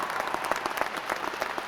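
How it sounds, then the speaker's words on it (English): A commencement crowd at a college of fine arts ceremony claps for graduates' families, producing dense, even applause from many hands throughout the short stretch. "Graduates, give them a round of applause."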